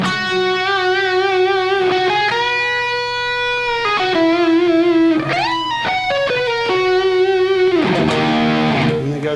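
Electric guitar plays the solo line from Lillian Axe's Show a Little Love: sustained, singing lead notes with bends and slides in a melodic phrase, lightly overdriven, heard alone and close.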